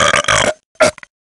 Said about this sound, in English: Did you know that everyone burps?